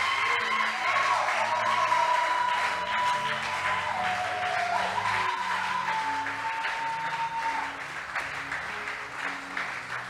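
Church congregation clapping and cheering in a sustained burst of applause during a worship service, with a sustained electronic tone underneath and a few whoops, tapering slightly toward the end.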